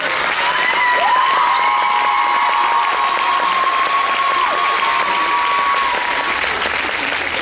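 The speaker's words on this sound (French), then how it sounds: "Applaudissements," Audience applause for the podium finishers at a rhythmic gymnastics hoop final award ceremony in Corbeil, sustained clapping filling the hall, with a sustained musical tone running beneath it.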